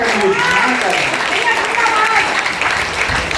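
Audience applause fills a comedy poetry gathering held for Independence Day, a steady, loud wash of clapping lasting a few seconds with a voice speaking over it.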